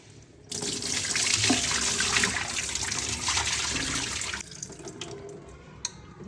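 Running tap water pours steadily over goat leg pieces being washed in a sink with salt and turmeric, a loud continuous splashing rush that cuts off near the end, leaving faint drips and clinks.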